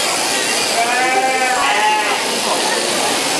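Sheep at a shearing demonstration during a Stampede family day, bleating in a few drawn-out, wavering cries near the middle, over constant crowd and hall noise.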